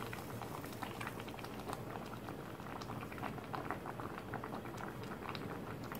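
Seaweed soup made with stone flounder, seasoned with soy sauce for soup and salt, boils in a pot with a steady, dense bubbling and popping patter, soft and continuous throughout.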